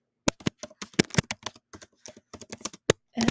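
Someone types a title on a computer keyboard in quick, irregular bursts of close, crisp key clicks separated by short pauses, ending with a slightly heavier run of strokes.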